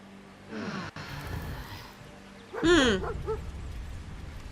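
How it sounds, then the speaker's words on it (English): A dog in the video game Baldur's Gate 3 gives a couple of short whimpering barks and yips, close and fairly loud, with a brief snort between calls and no talking. "Dog?"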